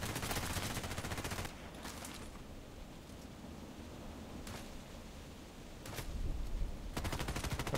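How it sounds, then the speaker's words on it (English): Enemy gunfire in a sniper-focused shooter game: dense bursts of rapid shots at the start and end with a few isolated cracks between, over a quiet hissing background. "Oh, shooting at me."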